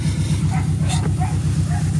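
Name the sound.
dogs barking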